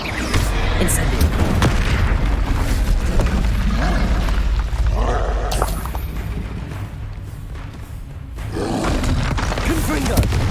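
The Incendio fire spell cast in the Hogwarts Legacy video game bursts out as a loud roaring whoosh with booming blasts, dense and close, amid other spell effects in a duel.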